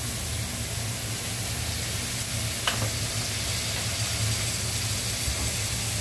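Fish sauce added to a hot pan sizzles and hisses steadily, an even frying crackle with a faint clink of a ladle partway through.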